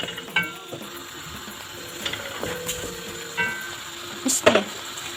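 Thinly sliced carrots fry in a pan for potato soup, with a soft sizzle underneath and occasional sharp clinks and scrapes of a utensil against the pan.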